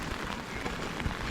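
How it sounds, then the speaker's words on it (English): Rain patters on a tent in the Wicklow Mountains while camping, a dense, steady close-up hiss of drops with no voices. "I think it's raining."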